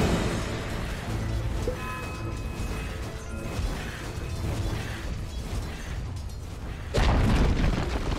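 A Dota 2 tower under attack and collapsing: a dense, rumbling mix of mechanical creaks and impacts ending in a louder crashing boom near the end, with no voices.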